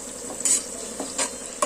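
A spoon scrapes and clinks against a pan while onions and green chillies fry with a soft, continuous sizzle, set in a close, quiet kitchen with a few sharp metallic taps.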